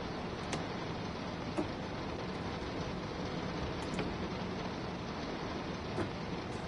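Steady rain in Train Sim World 2, a constant hiss with a low train rumble beneath it and a few faint ticks, even and unbroken throughout.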